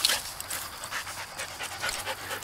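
A dog panting hard after chasing a Frisbee: quick, close, rhythmic breaths running steadily throughout.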